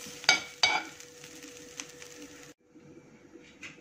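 Chicken curry masala fries in a pan with a soft sizzle, opening with two sharp scraping knocks of a spoon against the pan, then quieter hissing after a brief cut; no speech.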